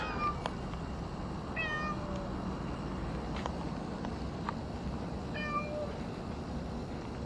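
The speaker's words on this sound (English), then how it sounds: "the big old black and white cat there" A big old black and white cat meows several times in short rising calls spread across a few seconds, fairly faint over a steady outdoor background hiss with a few soft clicks.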